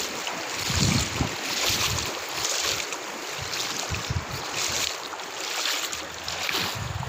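Heavy rainwater from Cyclone Nivar rushes and flows toward a filling lake, a continuous loud broadband roar with gusty surges and wind buffeting the microphone, no voices.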